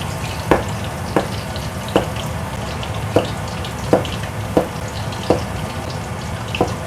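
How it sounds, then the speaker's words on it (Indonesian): Zucchini frying in hot oil crackles with a steady, close sizzle, punctuated by sharp pops or spatters roughly every half second throughout. "pertama aku goreng sukini dulu ya, karena ini sayur."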